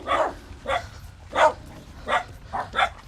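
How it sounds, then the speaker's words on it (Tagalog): A dog barking outdoors, six separate sharp barks at a steady, unhurried rhythm, fairly close and clear over a low background hum. "Ay, aso!"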